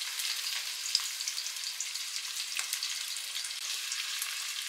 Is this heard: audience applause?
no